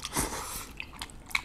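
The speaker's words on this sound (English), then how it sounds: "Eat the udon noodles." Close-up eating sounds of udon noodles in a rosé tteokbokki dish, soft slurping and wet chewing with a few small clicks over about a second and a half, no talking.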